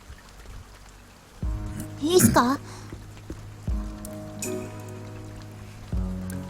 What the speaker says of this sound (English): the sound of rain hitting the roof dulled my thoughts